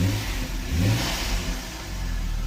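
A BMW 3.0L N55 engine, still on a cold start, idles and then revs up and back down once after a tap of the gas, close and loud over a low steady rumble.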